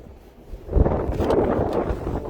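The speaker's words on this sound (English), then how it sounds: "Super windy here." Gusting wind buffets the microphone, starting quieter and swelling into a loud, rumbling roar after a moment.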